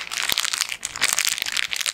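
Plastic bag crinkling close up as glasses are pulled out of it, continuous crisp rustling and crackling with sharp crunches throughout, no talking.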